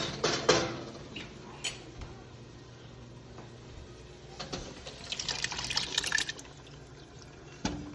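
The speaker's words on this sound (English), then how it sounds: "I'm going to add the rest of the clams with the clam juice" Clams and their juice poured into a cooking pot of clam sauce with tomatoes, giving a few splashy pours and liquid sloshing, close and moderately quiet, with small clatters at the start and end.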